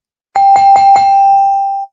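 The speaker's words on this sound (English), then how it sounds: "let me get my buzzer and bell" A handheld bell is struck four times in rapid succession, close and loud, its bright ring then sustaining and fading over about a second.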